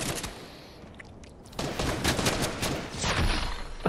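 Gunfire in the video game Fortnite, dense rapid shots that fade briefly and then return as a loud sustained barrage.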